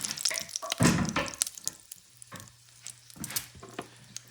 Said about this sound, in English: sear the sausages. This grease is hot.